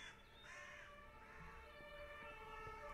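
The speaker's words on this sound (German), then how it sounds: "es wird laut. Rettungswagen." An ambulance siren wails at low volume with a steady tonal rise and fall, heard faintly in the distance throughout, while a crow-like caw sounds briefly near the start.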